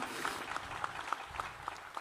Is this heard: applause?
yes